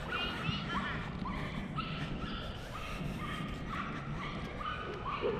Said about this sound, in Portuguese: Olha que lindo o sonzinho do cachorrinho.